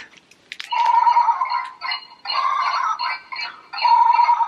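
A baby toy's sheep nose, pressed to play its animal sound, gives bleating, warbling electronic tones in three loud bursts with short gaps, close up and without talk.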